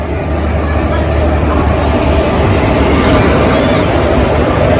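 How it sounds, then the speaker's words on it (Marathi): Mandovi Express passenger train pulling into a station, a loud steady low rumble of the rolling train running throughout without breaks. "बघा मांडवी एक्सप्रेस आता आलेली आहे"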